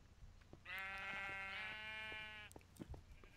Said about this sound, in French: Encore une horde de moutons.